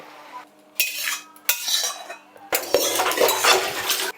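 Boiled elephant-foot yam stalks are shaken and lifted out of a kadai, giving bursts of metal utensil scraping and clatter separated by short quiet gaps, loud and close.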